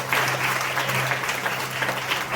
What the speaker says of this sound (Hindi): जोरदार ताली बजाओ, तारीफ करो।